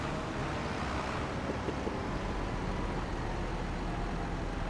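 Tractor in a farming video game driving back and forth to compact the ground, its engine a steady low rumble that drones on without break, fairly loud and alone.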